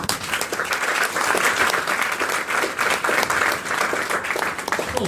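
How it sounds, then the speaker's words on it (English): An audience at a student talk gives a full, steady round of applause, dense, loud clapping that holds throughout. "So give MBA a round of applause."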